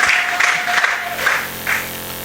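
Church congregation applauding and cheering in a loud, dense burst of clapping and voices filling the room.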